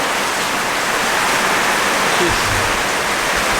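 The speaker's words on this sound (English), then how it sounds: "I'm not even complaining about the rain coming down inside my carport here" Rain pours down steadily onto and inside a carport, a dense, even hiss that stays loud throughout, with a brief spoken word near the end.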